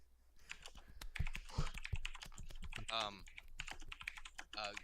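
Fast, furious typing on a computer keyboard, a dense run of sharp key clicks that keeps going throughout, close and fairly loud, with a brief voice-like sound partway through.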